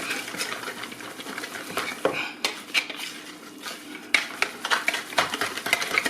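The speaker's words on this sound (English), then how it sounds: "Just mix that really, really good, because you want this like a batter-ish." A spoon briskly stirs hot water cornbread batter in a bowl, with continuous clattering and scraping against the bowl's sides, close and fairly loud.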